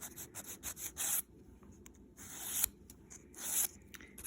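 A nail file rasps around the edge of a resin-and-powder-coated fingernail in short, soft back-and-forth bursts with brief pauses between them, quiet and close with no talking.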